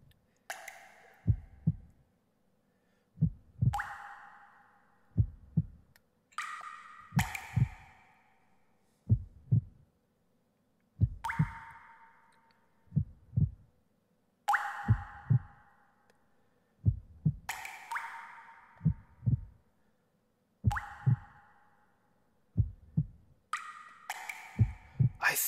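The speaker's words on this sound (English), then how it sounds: "If you listen carefully, you can actually hear a heartbeat going on" Heartbeat from the video game Parasite Eve 2: deep, heavy double thumps repeat steadily about every two seconds, with brief brighter bursts of game sound between beats.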